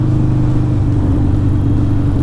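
Harley-Davidson Iron 883 with a Stage 4 S&S 1200 big bore kit accelerating under short shifts, a loud, close, throbbing V-twin rumble with steady low pulses and no talk over it.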